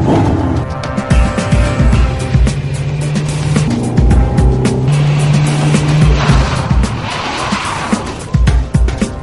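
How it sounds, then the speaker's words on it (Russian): A car braking hard from 60 km/h and swinging into a parallel parking space in one move, with a loud engine and tire skid noise throughout and a strained tonal squeal in the middle. "остановил машину одним движением на скорости 60 км в час, не задев при этом ни один из автомобилей"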